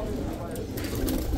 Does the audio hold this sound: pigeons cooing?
yes